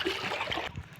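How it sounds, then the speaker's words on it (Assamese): Water of the Bhola river flowing and trickling nearby, a brief, steady watery rush with no voices. "এইটো হৈছে আপোনাৰ ভলা নদীৰ পানী।"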